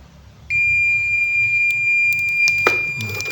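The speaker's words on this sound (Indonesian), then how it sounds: "buzzer dan LED akan menyala terus-menerus" An electronic buzzer wired with an LED to an MQ5 gas sensor switches on and holds a single loud, steady high-pitched tone, continuous without pulsing, with faint background noise and a brief click near the end.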